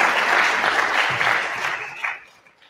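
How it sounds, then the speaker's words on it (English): Theater audience applauding at a talent show finals, a sustained wash of clapping that holds steady then gradually thins and fades, with a brief swell near the end. "Keep those applause going"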